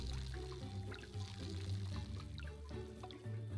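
Water pours in the Desperate Housewives video game, a steady liquid stream that runs for a few seconds over a busy game music bed.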